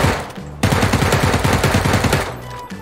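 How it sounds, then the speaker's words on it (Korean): Gunfire from the PUBG zombie mode video game comes in loud, rapid automatic bursts that fill nearly the whole stretch. A short gap breaks the shooting early on, and no one speaks during it. "가끔 가끔 총 쏴줘야겠어"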